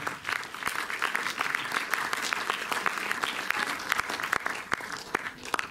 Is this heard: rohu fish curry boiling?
no